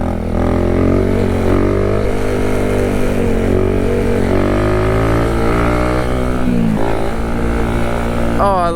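A Kawasaki Z125 motorcycle engine drones loud and close while being ridden, its pitch rising and falling with throttle changes and a dip as it slows, with wind rushing throughout.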